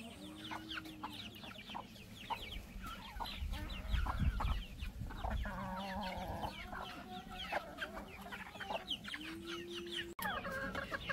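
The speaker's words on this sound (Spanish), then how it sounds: "Hasta la gallina están saboreando estas arvejas" Hens on a rural farm cluck while eating peas, with frequent close, chattering clucks and squawks throughout, over a busy outdoor background.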